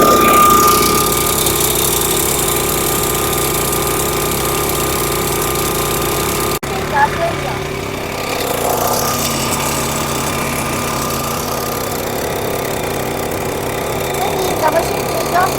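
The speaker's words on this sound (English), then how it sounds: "I show you the action of the engine." A Kohler petrol engine on a truck pressure washer drones loudly and steadily, then its pitch and load shift abruptly midway as the machine keeps running with a rough mechanical rumble.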